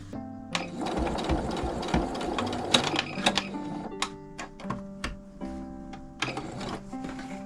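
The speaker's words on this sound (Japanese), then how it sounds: "ここを縫って" Sewing machine stitching a strap for a zipperless smartphone pouch, quick bursts of rapid mechanical ticking that stop and start with short pauses, close and fairly clear with no talk.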